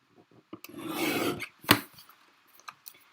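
Scrapbook paper for a travel album being trimmed on both sides, a quiet close rasping slide followed by a sharp snap and a few faint taps, with no talk.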